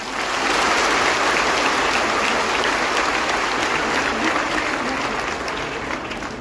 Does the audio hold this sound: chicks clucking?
no